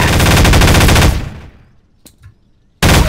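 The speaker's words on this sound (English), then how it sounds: "Very high power machine gun called God Hand." High-power machine gun called God Hand in Garry's Mod VR, blasting a loud sustained burst that cuts off and rings down, a couple of faint clicks, then firing resumes abruptly.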